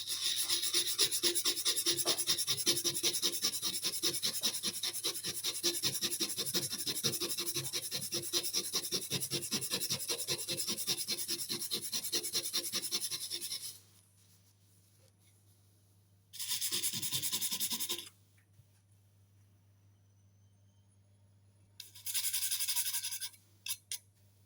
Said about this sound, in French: On va essayer de nettoyer tout ça un peu à la brosse.